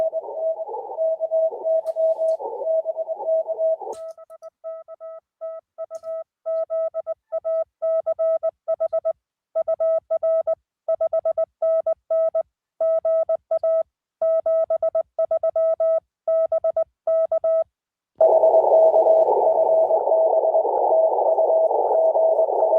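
Morse code CW tones from a ham radio during a POTA contact: a steady single-pitch tone, then a long run of keyed on-off beeps in clear dot-dash rhythm, framed by stretches of a noisier continuous tone, loud and with no talking.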